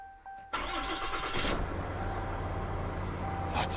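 A Ram 5500 with a 6.7 Cummins diesel cranks and fires after a fan clutch change, the starter's brief whir giving way to a loud, steady close idle rumble that runs through the rest.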